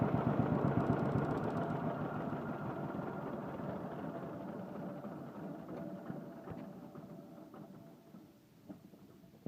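A John Deere Model B tractor engine runs with a steady, loud mechanical chug that gradually eases and fades toward the end as it is shut down, with no talking.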